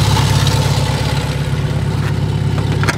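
A 1972 Fiat 850 Sport Spider engine in the Forza racing game holds a steady, close, low-pitched drone with a rough throb, loud and continuous throughout, with no voices over it.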